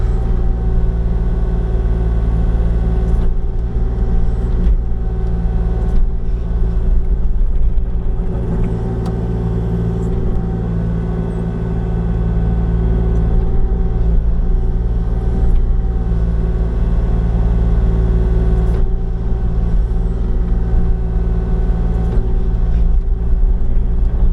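Kubota KX040-4 mini excavator backfilling a long trench with a 16-inch bucket, its engine holding a steady, loud diesel rumble throughout with occasional bumps and shifts in load, no talking.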